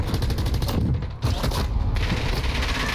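Rapid gunfire in a shooter video game keeps up dense, loud, close bursts of shots, with a brief pause around the one-second mark before the firing resumes.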